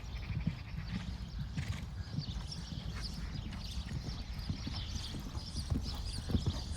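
Horse cantering and galloping during a jumping lesson, hooves drumming in a steady rhythm on the ground throughout at moderate volume.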